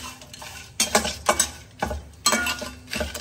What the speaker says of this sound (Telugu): బిర్యానీ మిక్స్ చేసేసుకున్నాము, కలిపేసుకుంటున్నాము